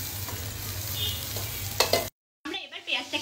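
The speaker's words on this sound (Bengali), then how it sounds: "আমরা এবার পেঁয়াজটাকে লাল লাল করে ভেজে নিচ্ছি।" Chopped onions and chillies fry in oil in a pan for loitta shutki, giving a close, steady sizzle with a few stirring scrapes, then a brief silence before the hissing and stirring resume.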